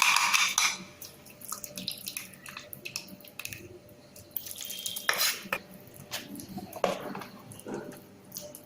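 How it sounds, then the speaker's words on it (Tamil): A spoon stirs and scrapes thick groundnut chutney, thinned with a little water, in a bowl, with irregular clinks and wet smearing sounds close by. "கொஞ்சம் தண்ணி சேர்த்துட்டு அதையும் மிக்ஸ் பண்ணிடுங்க"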